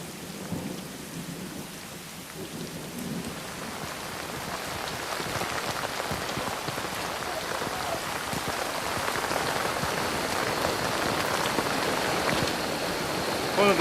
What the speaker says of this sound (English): when they came into the mountains here, it just rained and rained. The paths turned into torrents.